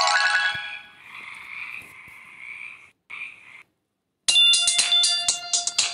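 A phone ringtone sounds for an incoming call, alone and fairly loud, with a bright electronic melody at the start, a pause of near silence, then a busier burst of ringing tones.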